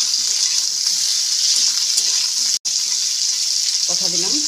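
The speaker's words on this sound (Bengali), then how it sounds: "করলাগুলো ভেজে নিয়েছি, দিয়ে দিচ্ছি এর মধ্যে হলুদ।" Fried bitter gourd going into a pan of dal with turmeric, a steady bright hiss of sizzling and frying that runs throughout with one brief break, and some faint clattering near the end.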